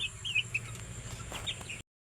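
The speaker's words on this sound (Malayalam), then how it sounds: "അടുത്തതായി നമ്മൾ കളർ കോഴിയാണ്." Colour chickens cluck in a few short bursts early on and again near the end, fairly close against a steady background hum, with no talking.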